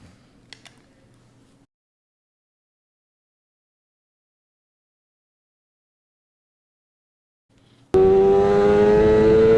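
A racing motorcycle on an onboard lap of the Isle of Man TT erupts after near silence into a loud, high-revving engine scream that climbs in pitch and stays close and constant.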